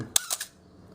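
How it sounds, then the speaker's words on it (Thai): Shutter of a Canon AE-1 Program film camera firing at 1/1000, heard close: a sharp mechanical snap followed by a softer second clack and a brief whir, then quiet. "ชัตเตอร์สปีดทำงาน ตรงทุกสปีดนะครับ เพียงแต่ว่า กระจกเนี่ย มันจะมีอาการ ที่เรียกว่าชัตเตอร์สควิกนะครับ"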